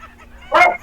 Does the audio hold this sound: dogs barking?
yes